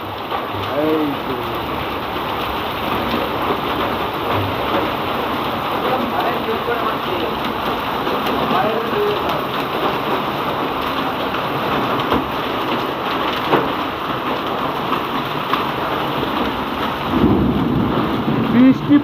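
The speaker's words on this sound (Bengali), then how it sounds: "বৃষ্টি পড়ছে না, শুধু শিল পড়ছে, বৃষ্টি নেই, শুধু শিল।" Hailstones pelt down without rain during a thunderstorm, a dense, continuous pattering and rattling across surfaces, with low rumbling beneath and a slightly heavier burst near the end.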